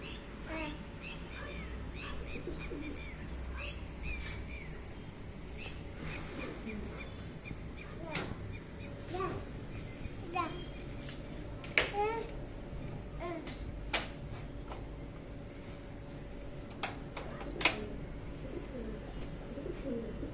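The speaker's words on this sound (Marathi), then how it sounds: "ते बघा इथे कबूतर आली होती." Pigeons coo in a low, continuous murmur that carries through the whole stretch, with a few sharp clicks and taps popping out now and then and faint voices mixed into the background.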